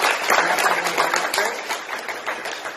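A crowd claps together, a dense patter of many hands that stays fairly even and slowly thins toward the end.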